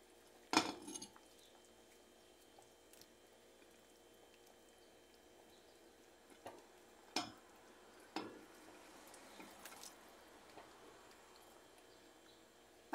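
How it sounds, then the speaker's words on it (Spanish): A pot of vegetable beef soup with potato, celery and green beans being stirred, a spoon knocking against the pot a few scattered times over a quiet, faintly bubbling background. "Vamos a revolver aquí"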